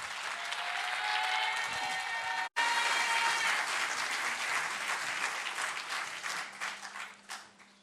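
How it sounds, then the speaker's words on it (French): Audience applause greets a speaker named Mathilde Charlot at a talk in Longjumeau, a dense sustained burst that breaks off for an instant and then tapers into scattered claps near the end. Faint tonal music plays underneath during the first seconds. "j'aimerais qu'effectivement vous lui fassiez un tonnerre d'applaudissements"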